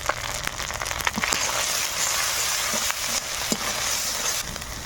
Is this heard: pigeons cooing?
no